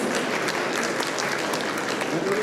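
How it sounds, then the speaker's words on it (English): A large crowd at a jewellery show's 25th-anniversary ceremony claps in a dense, continuous round of applause, with faint voices under it. "that definitely deserves a louder round of applause"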